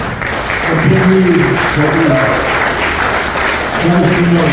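An audience at a Hall of Fame induction ceremony claps steadily in a dense, loud wash of applause that carries through, with a voice speaking over it.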